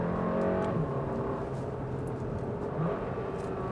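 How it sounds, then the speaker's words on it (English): Porsche Macan with a 252 hp four-cylinder engine hums steadily from inside the cabin while driving, with subtle changes in engine tone as it shifts. The sound is moderately loud and continuous, with no talking. "we're also getting special shifting sound from the exhaust in between"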